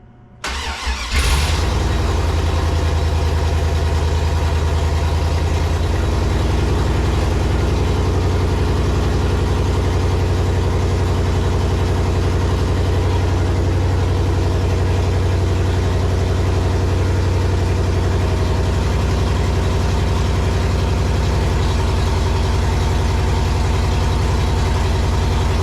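V8-swapped Chevrolet S10 engine cranking and catching at its first start-up, then settling into a loud, steady idle heard up close with no talking.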